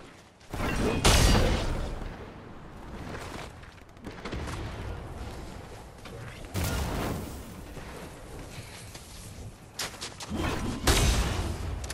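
Gunfire in Fortnite, with several loud bursts and booms scattered across the stretch, some close and sharp, others duller, over a noisy game background with no talking.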